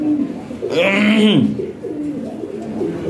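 Pair of newly matched adult Lahori Sirazi pigeons in a breeding setup, cooing once in a clear, close warbling call over a soft background murmur.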